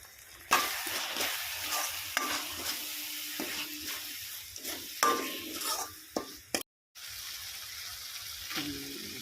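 Spice masala with coriander powder and salt sautés in a pan, a close sizzle broken by stirring scrapes and clatter, with a brief splash of running water and a short silent gap near the end.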